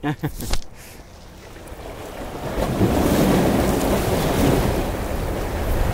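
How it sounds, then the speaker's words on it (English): Ocean waves roll onto the shore with a steady broad wash that swells louder midway, mixed with wind buffeting the microphone. A brief voice comes at the start. "Because I heard the waves come."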